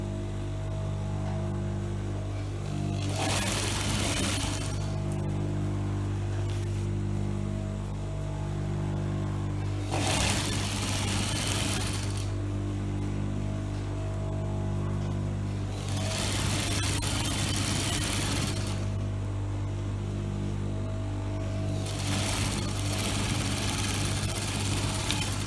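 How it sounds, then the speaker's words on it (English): An electric sewing machine runs steadily while stitching a senator trouser seam straight down to the hem, a continuous motor hum with periodic louder bursts of rapid needle chatter, no voices. "And I'm sewing it down, straight down"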